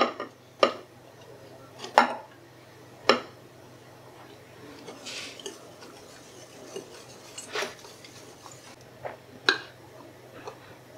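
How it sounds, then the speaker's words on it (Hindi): Flour is added bit by bit to a bowl and mixed in with a spoon. Sharp clinks of the utensil against the bowl come at uneven intervals, with softer scraping and rubbing between them. "थोड़ा थोड़ा हम मैदा डालते जाएंगे और मिलाते जाएंगे।"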